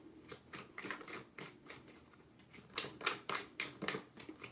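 Close, quiet shuffling of tarot cards, a fast run of crisp repeated flicks and riffles that grows denser and louder toward the end, with no voice.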